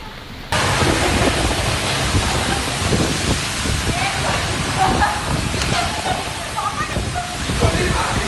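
A heavy Bengaluru rainstorm with strong winds and thunder makes a loud, dense roar of pouring rain that starts abruptly and holds steady, with low rumbling underneath throughout.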